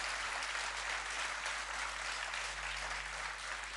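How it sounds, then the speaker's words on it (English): A school annual day audience applauds kindergarten students in a continuous, even wash of clapping that sounds somewhat distant and soft, over a low electrical hum. "can we have another round of applause for all these darling students?"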